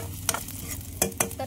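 Onions frying in oil for a Maharashtrian-style chicken curry cooked over a wood-fired stove, with a soft steady sizzle broken by a few brief stirring scrapes close by.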